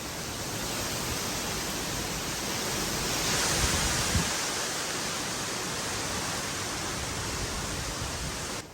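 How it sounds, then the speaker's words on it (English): A steady, loud roar of hurricane wind rushes continuously, swelling briefly midway with a faint thump, no voices present. "You can probably hear all that wind in the background."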